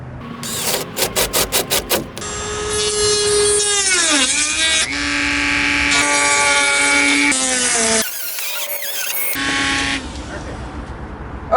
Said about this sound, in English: drill bit that is going to cut a hole in the plywood about 1 inch in diameter